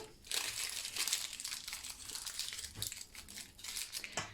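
Paper wrapped around soft wild garlic butter crinkles and crackles steadily for several seconds as it is rolled up and the ends folded under, close and moderately loud with no talk.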